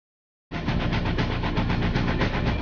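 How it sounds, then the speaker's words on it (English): Mortar Meister 5200 air-pressure mortar mixer with its engine and compressor group running, a steady loud mechanical drone with fine rapid pulsing that starts abruptly and holds alone without talk. "Mortar Meister 5200 takes in the clean air from the front and passes it through its engine and its compressor group"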